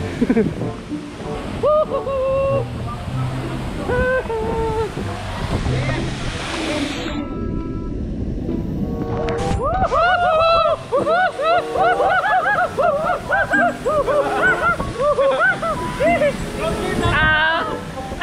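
Water splashes at Puray Falls in Montalban as a cyclist wades into the cold pool, with rushing, surf-like water noise throughout and several people talking and shouting loudly over it.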